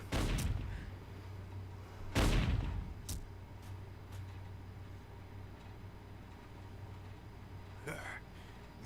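Gunfire from Omega blasting Mephiles in Sonic the Hedgehog 2006: a few sharp, loud booming shots stand out over a low game hum, with quieter blasts and rumbles scattered in between.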